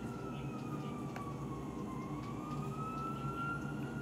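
A fire truck siren wails faintly in the distance during a fire in Santa Mesa, its slow rising and falling tone sitting under a constant low rumble of traffic and engine noise.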